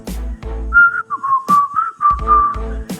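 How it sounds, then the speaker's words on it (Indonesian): Someone whistles a wandering melody, clear and close, with gentle rising and falling notes between a few soft thuds. "Di lereng bukit itu terdengar suara siulan membawa lagu tak menentu."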